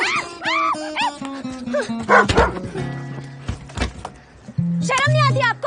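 Moti, a pet dog, barks repeatedly in sharp, close, loud bursts, with yelps between them, while people talk over the noise.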